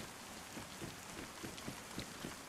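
Steady rain hisses in the survival game DayZ, a dense even wash of falling drops with faint scattered pattering and no voices.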